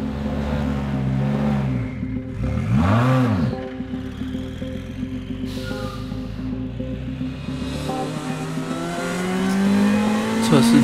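Race car engine revving and accelerating up through the gears on an installation lap at a sprint race circuit, loud and close, with rising and falling pitch sweeps between shifts and a brief voice underneath.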